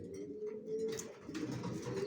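Johnson line racing pigeons, young racer birds, give low, soft rolling coos, a few quiet calls in a row with no talk.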